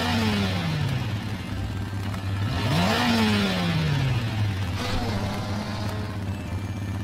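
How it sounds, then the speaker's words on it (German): A red motorcycle engine revs steadily, its whine rising and falling in pitch over a constant drone, with a voice briefly heard over it. "Es ist ein rotes Motorrad."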